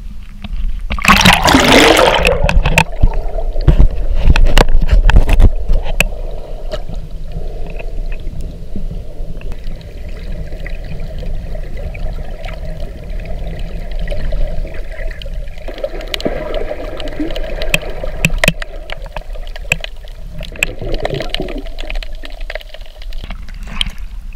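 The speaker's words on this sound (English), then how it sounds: "I'm about to submerge my whole body in the water" Submerging in shallow sea water while snorkelling: a loud splashing rush at first, then muffled underwater gurgles, bubbling and low rumble that continue steadily.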